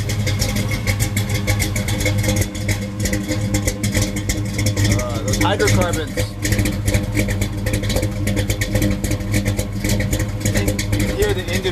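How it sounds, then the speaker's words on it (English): A Camaro V8 with a radical cam idles with a lumpy, pulsing rumble that holds steady throughout, while someone speaks briefly over it. "As you can hear, it's a fairly radical cam. It's got that good old V8 sound."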